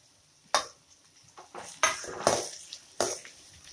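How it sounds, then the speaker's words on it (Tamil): Onions and garlic sautéed on high heat in a pan: sharp spatula clanks and scraping strokes against the metal at an uneven pace, with a light sizzle underneath. "இப்போ கொஞ்சம் நல்லா ஹையில் வச்சு நல்லா வதக்கிக்கலாம் வெங்காயத்தை"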